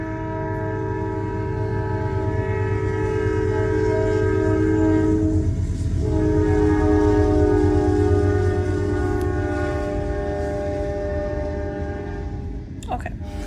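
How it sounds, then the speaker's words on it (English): A train passes slowly nearby, with a long, steady rumble and sustained tonal horn-like drones that stay loud throughout, and a brief clatter near the end. "And if you hear that, there's a train coming."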